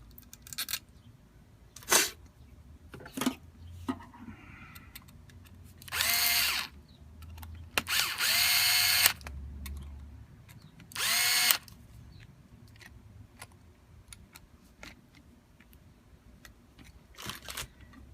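A power drill drives screws into a ride-on FX Gladiator Ranchero Power Wheel toy car, several short, loud whirring bursts separated by clicks and quiet pauses.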